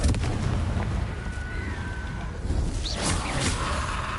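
The Confringo fire spell in Hogwarts Legacy on PS5 bursts in a dense, rumbling blast, with crackling impact noise and a brief whooshing streak layered over continuous game combat sound.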